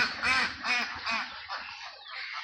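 Ducks at a duck farm quack in a loud, close series of nasal calls, four or five bursts in quick succession followed by softer, overlapping quacking.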